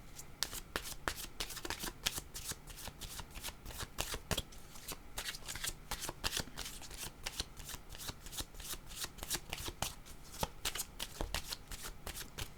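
A deck of cards shuffled by hand for a card reading, a long run of crisp riffling clicks and flutters, close and quiet, with no one speaking.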